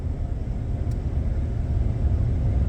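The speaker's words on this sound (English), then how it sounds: "Here comes a dryer, so it might get a little loud." A loud dryer passes close by at a Florida detention site, giving a continuous deep engine rumble and roar that swells slightly toward the end with no talk over it.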